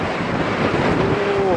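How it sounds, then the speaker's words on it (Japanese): Strong sea waves break along a rocky coastline in steady wind, a loud continuous roar of surf mixed with wind buffeting the microphone, with a faint tonal whine rising near the end. "こっちは波が強い。"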